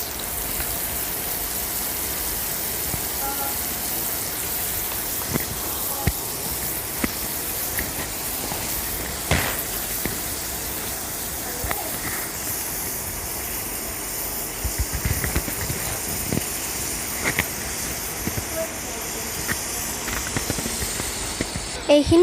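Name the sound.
mutton sizzling while frying in a pan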